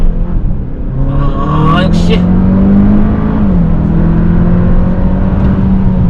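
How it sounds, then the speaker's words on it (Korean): A Hyundai Sonata N Line accelerating hard on a highway, heard from inside the cabin as a loud engine note climbing steadily in pitch through a gear change, with a brief spoken remark over the rising roar. "급가속 한번 해볼까요?"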